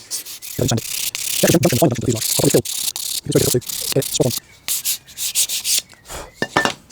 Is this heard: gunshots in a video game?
no